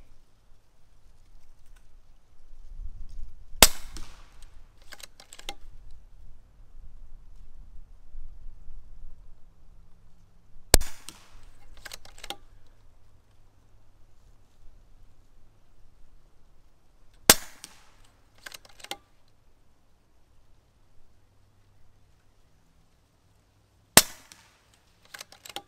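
AGN Technology Uragan .22 caliber air rifle firing four sharp, isolated shots several seconds apart outdoors, each a crisp crack with a short mechanical tail, over a quiet background.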